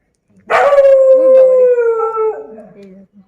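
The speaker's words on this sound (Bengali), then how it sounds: "দেখতে পাচ্ছ কুকুরে ডাকছে" A dog lets out one long, wavering howl on a street at night. It is close and loud, rising sharply, then sliding slowly downward for nearly three seconds before it fades.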